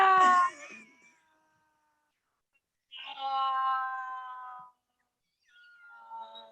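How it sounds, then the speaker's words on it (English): A cat yowls in drawn-out, wavering cries, three separate calls with silent gaps between them, fairly close. "No, it's a cat."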